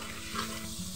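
Spice paste of ginger-garlic, turmeric, chili, coriander and salt with a splash of water frying in a pan for a river boal fish curry with potato and cauliflower, a steady close sizzle broken by the rhythmic scrape of stirring.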